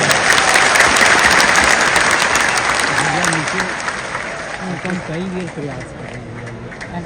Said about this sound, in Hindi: जोर से ताली बजाना